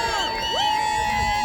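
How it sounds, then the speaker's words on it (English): A crowd cheering for Arundel at a medieval festival battle, dense shouting and whooping from many voices with a sustained high call rising over the din. "So here go Arundel, cheer on Arundel."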